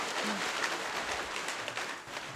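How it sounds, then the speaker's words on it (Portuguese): Steady, diffuse applause at a formal council session celebrating 15 years of the Serra LGBT Forum, a continuous patter of many hands at moderate distance with no clear voices over it. "Uma salva de palmas, uma salva de leques."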